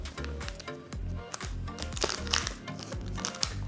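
A box of blueberry Cocostar chocolate bars is torn open up close, with rapid repeated crinkling and crackling of packaging in quick bursts and no voice over it.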